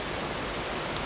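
Steady rain falling outdoors, a continuous dense hiss filling the scene, close and fairly loud, with no voices.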